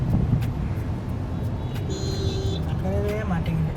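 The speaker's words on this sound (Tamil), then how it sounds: "டிராஃபிக் ரொம்ப அதிகமாக இருக்குது" Dense city traffic jam at night, with a steady low rumble of idling and creeping cars, a few horn-like tonal blips, and people talking over the din inside a car.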